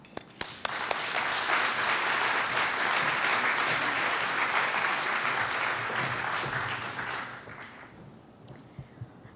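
Audience applause welcoming a faculty speaker at a university Family Weekend forum, sustained steady clapping from a crowd that fades out near the end, leaving a few scattered claps.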